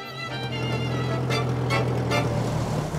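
A Warszawa, a Polish classic car, drives with a steady low engine drone and a constant rumble, close and continuous throughout.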